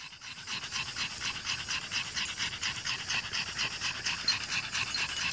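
Dogs panting rapidly and steadily, a busy rhythmic huffing of several animals close by, with no talking.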